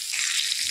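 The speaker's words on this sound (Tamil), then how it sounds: "எண்ணெய் சூடானதுக்கப்புறமா கட் பண்ணி நல்லா மிக்ஸ் பண்ணி வச்சுருந்த மீனை எடுத்து எண்ணெயில் போட்டு நல்லா பொரிஞ்சதுக்கப்புறம்" Fish pieces frying in hot oil on a dosa pan for a fish fry, giving a steady, close hiss and crackle of sizzling oil throughout, with no talking.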